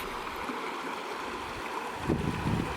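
Humbug Creek north of Lake Pleasant running briskly after recent rains, a steady close rushing and gurgling of water that swells a little toward the end, with no voices.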